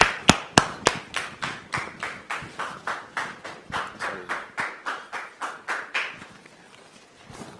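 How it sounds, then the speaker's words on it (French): A French TV talk-show studio audience applauding a guest's arrival: a brisk, rhythmic run of distinct claps, quickening then steady, close and clear, before fading out near the end. "Sous vos applaudissements, s'il vous plaît."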